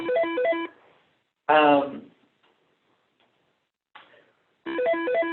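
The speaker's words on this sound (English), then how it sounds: "Sorry, my phone is ringing." A mobile phone rings in a quiet room during a training session, with two bursts of the electronic melodic ringtone at the start and end and a short spoken word between them.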